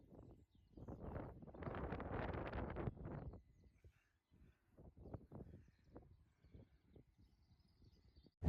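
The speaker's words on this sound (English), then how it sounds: "It's too windy to talk out here" Gusts of wind buffet the microphone in low rumbling bursts, strongest early, then come and go in shorter puffs.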